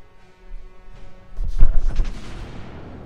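Cruiser Cleveland main guns firing in World of Warships, a burst of several booming shots that swell in the middle and trail off into rumbling echoes, fairly loud with no talk.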